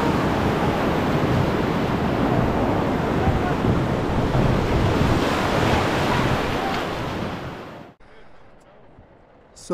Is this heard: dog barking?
no